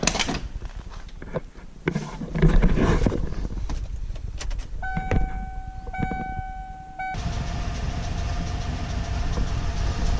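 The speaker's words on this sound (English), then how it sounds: "I'm gonna fire the truck up." A 1995 Ford F-150 4x4 pickup truck engine starts and rumbles steadily, with clicks and shifting noise early on, then settles into a continuous idle hum with a faint tonal whine.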